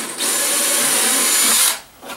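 A power drill bores into wood during a DIY vertical-axis wind turbine build. One loud, close, continuous whine runs for about a second and a half, then cuts off.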